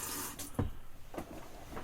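A razor rinsed under a running tap: a steady close rush of water with brief splashy surges as the blade passes through the stream.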